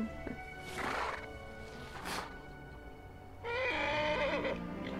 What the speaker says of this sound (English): Do we actually get to ride the horse?